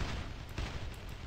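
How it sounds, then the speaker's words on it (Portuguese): Rapid repeated gunfire from a gun in a Minecraft-style video game, a dense continuous burst of shots filling the whole moment at steady volume with no talk. "Por que eu tô dando tiro eterno?"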